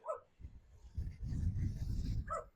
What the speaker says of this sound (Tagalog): And this is the dog.